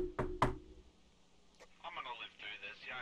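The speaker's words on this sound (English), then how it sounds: "Cross your fingers, knock on wood." Two sharp knocks on a wooden desk, close and loud in quick succession, then people talking over a faint background.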